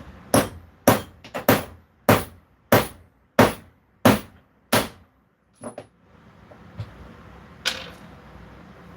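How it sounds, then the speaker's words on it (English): A coin is hammered into a ring, about nine sharp metallic strikes in an even rhythm, loud and close, followed by a couple of softer taps and light handling noise. "I'm going to hammer it right now."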